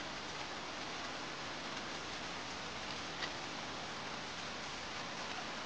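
Steady rain in a period Chinese TV drama scene makes a continuous, even, moderately quiet hiss, with faint ticking drops scattered through it and no one speaking.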